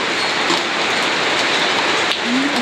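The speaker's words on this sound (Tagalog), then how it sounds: "Parang may yelo na kasama itong ulan." Heavy, steady rain with hail mixed in falls outdoors in a rural farming area at night, a dense, loud hiss that runs without pause and with no voices.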